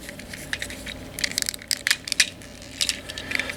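Plastic Transformers Rodimus Unicronus toy arms fold and snap into place, giving a run of sharp, close clicks and ratcheting taps in small bursts against a quiet background.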